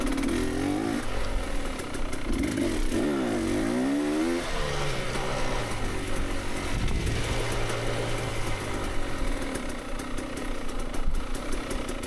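A motorcycle engine fitted with an XTNG GEN3+ carburetor runs steadily nearby, a buzzing idle with brief revs and pitch sweeps early on, then a continuous drone throughout.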